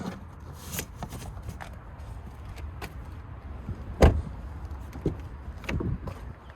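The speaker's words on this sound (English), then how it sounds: "you can fold this flat by pushing in here on either side, and then pretty easy to pop it back into place" Rear seat of a 2026 Chevy Equinox EV LT being folded flat and popped back into place, a series of close plastic clicks, latch clunks and rustling shuffles, with one sharper thunk near the middle and no talking.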